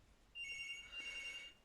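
A home telephone rings faintly from another room, a thin electronic trill sounding in two brief bursts over soft room noise.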